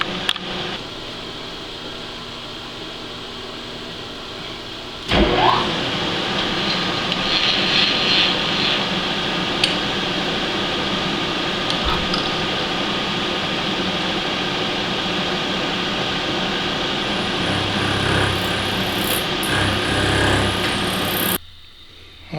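Router fitted with a round-over bit shaping a shifter saddle bushing, a loud continuous high-speed whine with a sharp onset partway through, running steadily before cutting off abruptly near the end.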